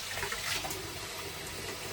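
Warm water runs steadily from a tap into a sink, prepared for bathing a dog, a continuous close splashing rush with no talk.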